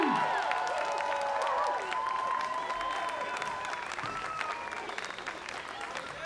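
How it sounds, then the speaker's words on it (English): An audience at Shrewsbury Folk Festival 2021 applauds The Longest Johns, a dense, even clatter of many hands with scattered whistles and cheers, easing slightly toward the end. "Nice little round of applause for yourself there"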